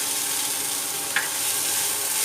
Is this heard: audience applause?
no